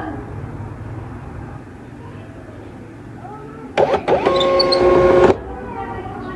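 A thermal printer set to gap paper, prone to continuous feeding, whirs through a short burst of printing that lasts about a second and a half. It is loud and close, rising sharply above a quiet room background and then stopping abruptly.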